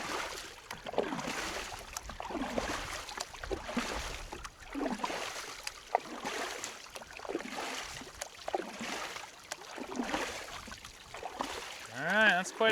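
Water splashed repeatedly over a Yamaha Crosswave during a simulated wave test, rhythmic sloshing and spraying surges, close and steady throughout, with a person's voice briefly audible.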